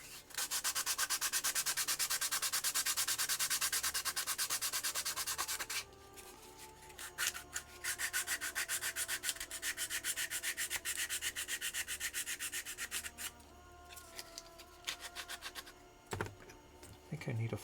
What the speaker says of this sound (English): Sanding in there is tricky.